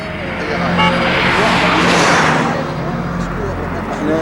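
A car passing along a road beside oil pipelines, its engine and tire noise swelling to a peak midway and then fading, heard close with people talking over it.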